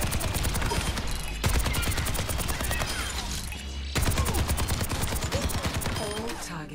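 Soldier 76 firing a rapid automatic stream with his tactical visor in Overwatch 2, loud continuous gunfire in two long bursts separated by a brief break, crisp and close, with a voice speaking faintly underneath.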